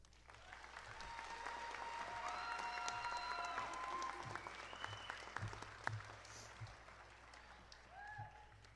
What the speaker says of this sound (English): Let's give our student speakers another round of applause.